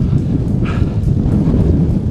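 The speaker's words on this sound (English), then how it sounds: "It's just blowing a gale." A strong gale blows across an open hilltop, rough continuous gusting and buffeting wind roar close on the microphone, with a voice audible over it.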